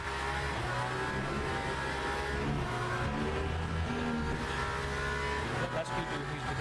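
BMW hypercar engine in the Le Mans Ultimate racing game, a continuous loud droning engine note with shifting revs throughout, while someone talks over it.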